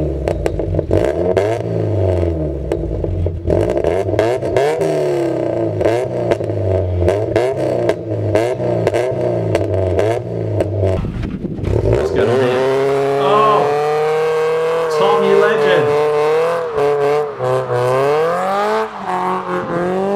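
A Mazda MX-5 NC running a BBR decat midpipe with no catalytic converters does a burnout, its engine revving in rough bursts before climbing into a sustained high-rpm howl with squealing tires, loud and close.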